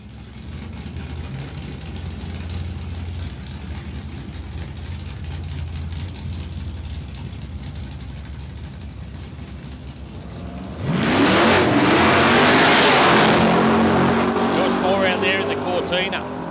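An Outlaw Nitro Funny Car, a Monaro, at a drag strip: a steady engine drone under commentary, then a sudden loud, harsh roar as the car blasts off.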